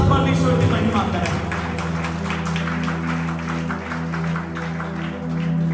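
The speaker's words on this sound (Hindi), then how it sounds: "जोरदार तालियों के साथ परमेश्वर की महिमा करें।" Hearty applause from a church congregation during a Sunday service, steady and dense clapping over sustained music and voices, holding loud for several seconds.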